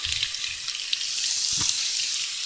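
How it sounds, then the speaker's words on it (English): Chopped onion drops into a hot pan of crisping ham and sizzles in a steady, bright hiss, with a brief low thump as it lands. "now I'm going to dump in the onion"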